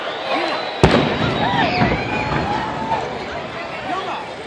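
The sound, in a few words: fireworks in Washington, D.C. on July 4th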